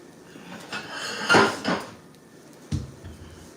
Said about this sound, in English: Let me get a plate.